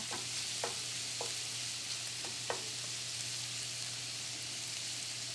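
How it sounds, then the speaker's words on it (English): Bacon and onions fry together in a pan with a constant soft sizzling hiss and a few light stirring clicks, steady throughout, over a low hum. "I like to cook it all together. just as easy. Get the onions a little caramelized too."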